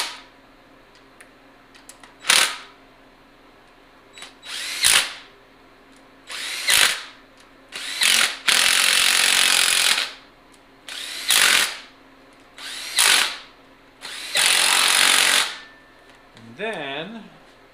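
A pneumatic impact gun tightens bolts on a 5.3 LS engine during a junkyard rebuild, giving repeated loud bursts of rattling whir, some brief and some held longer, separated by pauses.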